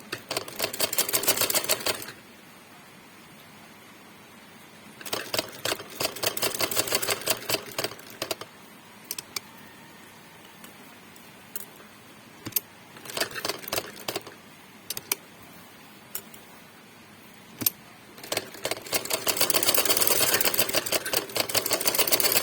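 Sewing machine stitching cloth while shalwar trousers are sewn, heard in bursts of rapid mechanical clatter separated by quieter pauses, close and fairly loud with no talking.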